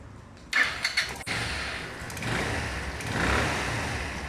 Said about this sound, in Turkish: Ee, motorumuzu çalıştıralım. Birlikte kontağı açalım. Marşına basalım.